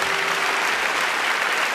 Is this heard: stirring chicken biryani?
no